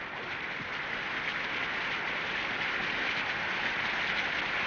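Rain pours steadily in a city street scene of a Sherlock Holmes radio drama, a dense, even hiss that holds loud and unbroken with no voices over it.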